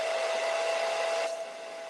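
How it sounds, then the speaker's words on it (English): A hair dryer drying paint on a stencil blows with a steady whirring hiss and a constant tone, then drops to a lower, softer setting near the end. "Let me do it with the hairdryer."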